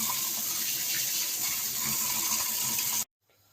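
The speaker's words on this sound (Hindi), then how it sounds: "ऊपर से ठंडा पानी डाल देंगे।" Cold water gushes steadily from a tap over boiled macaroni in a colander for about three seconds, a loud, dense splashing rush that cuts off abruptly.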